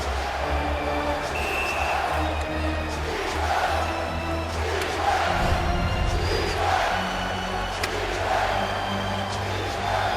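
A hockey crowd at Nassau Coliseum chants during a Capitals–Islanders playoff game, a rhythmic roar of many voices filling the arena, sustained and fairly loud throughout.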